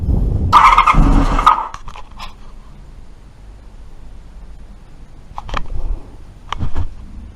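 Honda VFR400R NC24 motorcycle engine catching on starting spray, a loud close burst of firing for about a second before it dies, followed by quiet and a few faint clicks and knocks.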